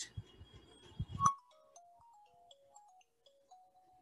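A few soft taps and bumps, then a quiet electronic phone ringtone plays a simple stepping melody, faint and alone.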